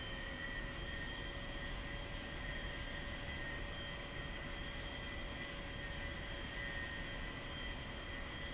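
An A-4E Skyhawk jet in the DCS World flight game, flying Blue Angels airshow solo practice, gives a steady, loud engine roar with a high whine throughout as it powers up for takeoff, with no voices.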